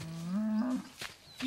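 A cow gives a single drawn-out moo that rises in pitch, loud and close, followed by a short rustle and the start of a second low call.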